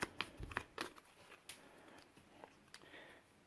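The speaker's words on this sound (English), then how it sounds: "Take the 2 green cards and shuffle them together with the bomb card, making sure you don't see the results, and give it a good shuffle." Cards for the Countdown to Disaster board game get shuffled by hand in a short, close run of quick papery riffles and snaps that taper into a few softer clicks, with no talking.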